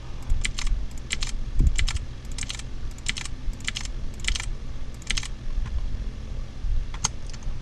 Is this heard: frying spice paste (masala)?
no